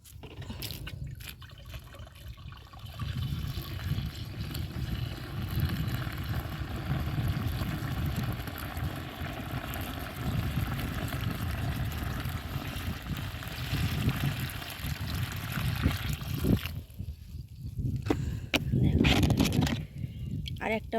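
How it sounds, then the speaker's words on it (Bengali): Water pours and splashes into a container to mix a powdered pesticide spray for marigold plants out in a field, a fairly loud, continuous liquid rush with drips and sloshing, and a voice heard at times. "এবার জলটা দিয়ে দিই।"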